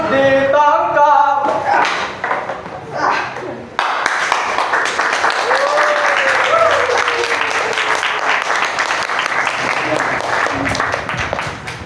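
Audience applause after a live stage performance at a campus cultural event, a steady wash of many hands clapping through most of the stretch, preceded by a short burst of voices and sound, with a voice speaking over the clapping partway through.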